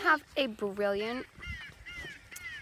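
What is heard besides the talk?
angry bird calls from a blueberry bird deterrent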